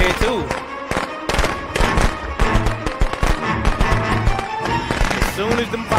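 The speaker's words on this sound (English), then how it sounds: "As soon as them firecrackers are done popping," Rapid crackling bursts of firecrackers go off in a video game, a dense run of sharp pops with game music and effects underneath and voices talking over them.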